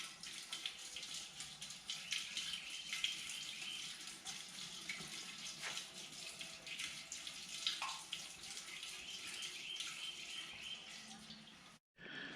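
Fluid drains steadily out of a failed Corvette C6 differential, a faint continuous trickling splash like a running tap that lasts throughout and briefly drops out near the end.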